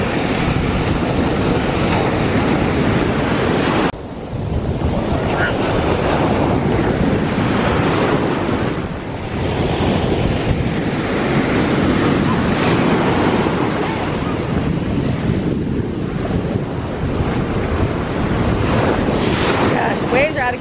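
Rough ocean surf crashes onto a beach, a loud continuous roar of breaking waves with heavy wind buffeting the microphone and brief lulls between surges.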